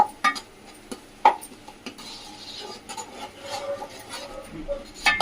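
Fish curry with chili powder being stirred in a pot: a spoon scrapes and clinks against the metal, with sharp knocks early and near the end and a continuous rubbing sound between them.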